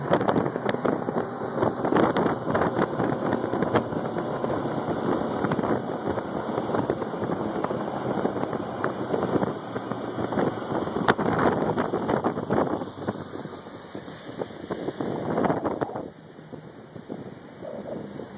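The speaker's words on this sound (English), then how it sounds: "quiet running engine with a lot of pickup, even in mid-range" A 2012 Harris 220 Cruiser tri-toon boat with a 150HP engine running on the water, a steady engine drone under strong wind buffeting on the microphone and water rush, easing off near the end.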